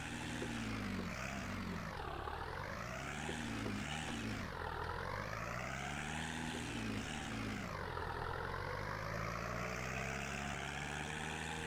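A tractor engine in Farming Simulator 19 revs hard up to about 2,350 rpm while driving at around 41 km/h. The drone stays steady and continuous, its pitch sweeping up and down in waves throughout.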